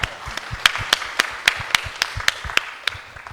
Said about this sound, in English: Let's give applause to Tanzania.